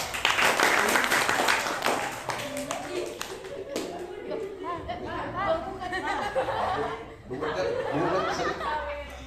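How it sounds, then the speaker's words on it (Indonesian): Audience clapping at a religious lecture gathering, a burst of loud applause at the start that soon thins into scattered claps mixed with chatter, chuckles and laughter from the crowd, with people talking over it later. "Tepuk tangan semuanya."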